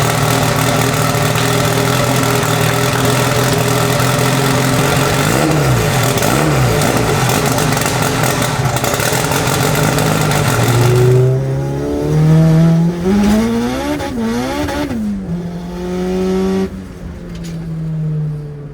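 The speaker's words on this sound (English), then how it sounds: "the car is running and driving properly" A Honda Civic with a built LS VTEC engine runs loud and close, holding a high steady drone before revving up and down in rising and falling sweeps, with no voices.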